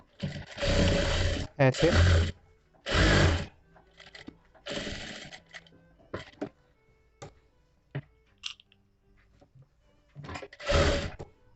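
A sewing machine stitches a princess cut blouse in short bursts of rapid mechanical whirring, several separate runs with pauses between, while someone talks softly.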